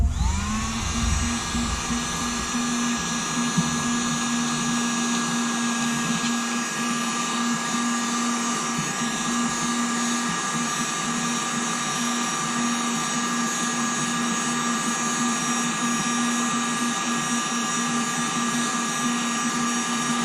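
A steady, high-pitched whine of a heat gun blowing hot air to soften a Kydex sheet, constant and close, with no talking.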